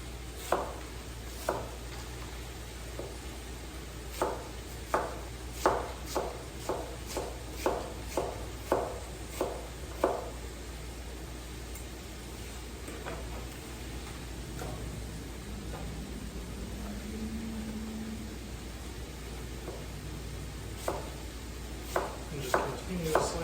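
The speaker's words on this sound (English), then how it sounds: "Continue to slice these up while everything's cooking down" A knife slicing apples on a cutting board next to cooking onions, a series of crisp, evenly spaced chops in bursts, close up, with a quiet sizzle underneath and someone speaking briefly between them.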